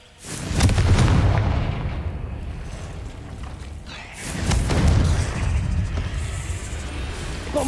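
Confringo blasting spell explosions in the video game Hogwarts Legacy: two heavy booming blasts a few seconds apart, each with a deep rumbling tail, loud and close.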